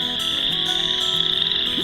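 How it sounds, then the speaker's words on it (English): Leopard frogs and other frogs calling at a small pond on a warm spring day, a dense, steady chorus of croaks and trills with a high insect-like drone over it, loud and continuous. "The leopard frogs and the other frogs I hear sure do know that it's warm out"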